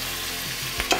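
Birria meat fries on a Camp Chef griddle with a constant close sizzle, broken near the end by a quick scrape or clatter as the meat is flipped.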